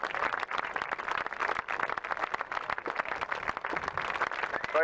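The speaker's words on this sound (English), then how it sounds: "You can start to give them a quick cheer because they certainly can hear you now" Airshow spectators at Biggin Hill in 1994 cheer and clap steadily as RAF Falcons parachutists land, a dense continuous crowd roar with rapid applause throughout.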